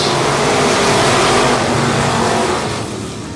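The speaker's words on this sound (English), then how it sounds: "You'll hear the throttles in, the green flag's out. We're underway here in your MCA stock cars." MCA stock cars accelerating together off the green flag at Cotton Bowl Speedway, a loud, dense roar of many engines revving hard, close by and sustained, easing slightly at the end.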